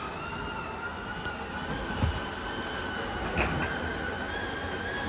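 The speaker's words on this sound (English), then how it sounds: "just press and hold out and that slide will make its way out." A steady electric motor whine hums at an even pitch over a low background rumble, fairly quiet and continuous, as the slide-out on a 2021 Grand Design Reflection 260RD RV extends.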